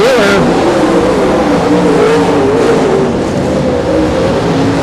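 Race cars roar past on a short track in close competition, engines droning loud and continuous with pitch sweeps as they pass, while an announcer talks over the noise.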